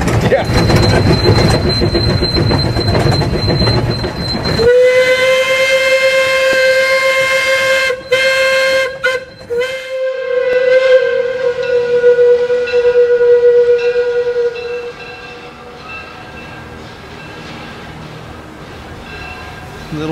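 Trains rumble and clatter loudly at a rail fair, then a long, steady train whistle sounds for several seconds before fading into quieter rail noise.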